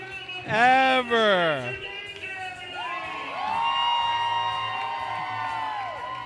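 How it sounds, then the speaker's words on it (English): A crowd at a shuffleboard championship semi-final night at Royal Palms in Brooklyn cheers with loud whoops and yells, then settles into a lower, ongoing roar of voices. "Crowd cheering for Stranger Danger."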